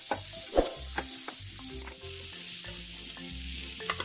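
Sliced carrots and potatoes sizzle steadily in a hot pan while being stirred, with a constant frying hiss and occasional clinks of a utensil against the pan.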